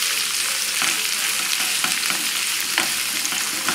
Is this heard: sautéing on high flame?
yes